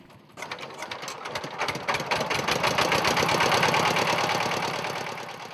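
A boat engine chugs steadily with a rapid, rhythmic knocking pulse that grows louder and holds, running continuously without any voices.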